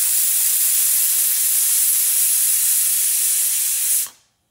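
A pressure cooker boiling spinach, dill greens and dal lets out a loud, steady high-pitched steam hiss for about four seconds before it cuts off abruptly into near silence.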